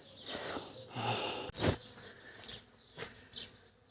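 Bees buzzing around a flowering plant, a few close droning passes rising and fading, with one sharp knock partway through.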